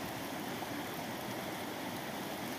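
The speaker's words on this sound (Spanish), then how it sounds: "Los dejamos con el sonido del río Cañaveralejo" The Cañaveralejo river flows in a steady, continuous rush of water, close and even throughout, with no voices over it.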